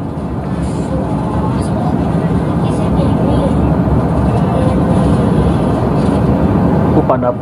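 A passenger airliner cabin in flight roars with a steady, loud, low engine and air rumble that fills every moment, while voices talk faintly beneath it.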